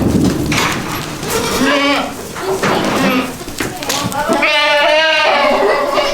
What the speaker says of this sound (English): all the goats think we're feeding them